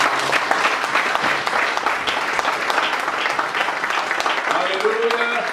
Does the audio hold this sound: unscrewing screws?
no